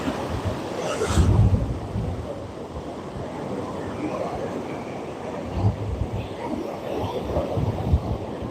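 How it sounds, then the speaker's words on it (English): Ocean waves crash and wash continuously onto a beach during evening surf fishing, a low rolling roar with gusty wind buffeting the microphone and a few louder surges. "Let you all enjoy the waves crashing in."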